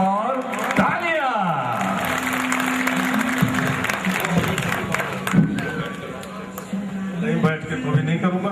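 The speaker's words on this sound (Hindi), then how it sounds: "एक बार जोर से तालियां, तालियां और तालियां" An audience at a poetry gathering claps and cheers loudly for several seconds, a dense crowd wash with voices and calls mixed in throughout.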